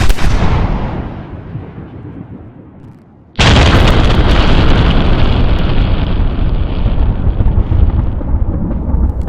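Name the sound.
Tannerite explosion shot by rifle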